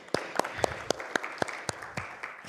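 A conference audience claps in a slow, even rhythm, about ten sharp, distinct claps spaced roughly a quarter second apart, sounding like a few hands striking together in unison rather than a full ovation.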